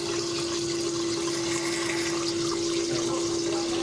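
Water rushes through a rust-clogged bio-sand filter during backwash, a steady, loud flow with a constant low hum from start to finish and no voices.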